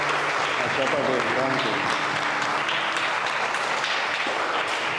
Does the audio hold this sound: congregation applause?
yes